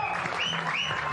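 A cricket crowd at a Nepal versus Hobart Hurricanes match cheers and applauds a boundary four, a dense, steady roar of clapping and raised voices with rising shouts.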